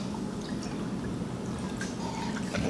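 A cocktail called the Royal Glory, made with absinthe and Courvoisier cognac, is poured into a glass, giving a steady, soft liquid trickle and drip heard close up with no talking.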